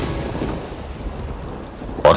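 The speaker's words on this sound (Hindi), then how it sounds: "चीनी ने तानी के चारों तरफ तेजाबी बारिश शुरू करवा दी" Heavy rain hisses steadily throughout a dramatized audio story scene of acid rain, with a sharp crack of thunder bursting in loudly near the end.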